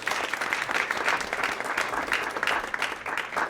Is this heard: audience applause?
yes